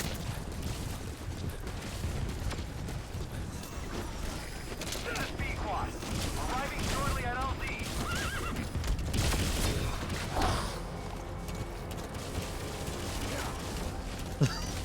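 A horse whinnies midway through a dense, noisy Metal Gear Solid V: The Phantom Pain game soundscape of clanks, creaks and distant gunfire, with a voice talking over it.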